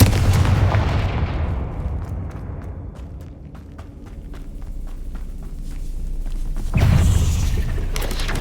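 Confringo blasting spells exploding in the game Hogwarts Legacy: a heavy blast opens, its roar trails off into crackling debris, and a second loud burst lands near the end, close and forceful with no talk.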